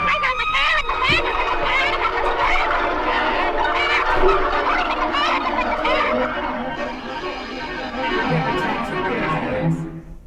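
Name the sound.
chickens clucking in Animal Farm film scene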